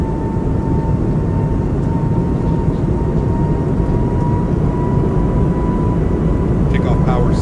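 The A220 jet engines hold a steady, loud roar at takeoff power in Microsoft Flight Simulator 2024, with a faint tonal whine riding over the constant rumble.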